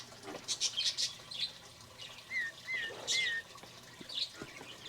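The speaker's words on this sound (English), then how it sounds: "It's one of our crested doves here, Australian crested doves." Australian crested doves give soft, quiet whistling calls amid scattered wing flaps and rustling, heard close by in an aviary with faint chirps spread across several seconds.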